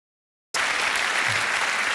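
A comedy show audience bursts into applause all at once after a silence, a dense, loud, steady wash of clapping from a large crowd.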